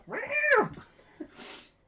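A human voice imitates a startled cat's yowl: one close, rising then falling meow-like wail, followed by a faint click and a soft breathy trail.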